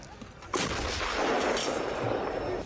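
A Russian 2S5 self-propelled artillery gun fires a shell in a war zone, a single abrupt loud blast that rolls straight into a sustained broad rumble lasting about two seconds.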